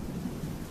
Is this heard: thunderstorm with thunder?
yes